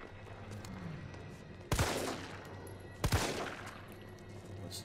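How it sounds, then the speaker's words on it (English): Two gunshots go off in the Resident Evil 3 Remake video game, a couple of seconds apart. Each is a loud, sharp blast over a steady, low in-game ambience. "That's two shots."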